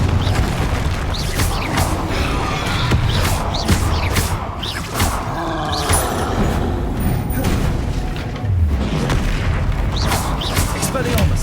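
Spell explosions boom and crackle in the Hogwarts Legacy video game as blasting spells and disarming spells fire. The booms are dense and continuous, mixed with game effects and a player's voice calling out.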